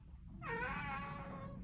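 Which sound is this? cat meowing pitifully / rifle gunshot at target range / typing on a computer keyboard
cat meowing pitifully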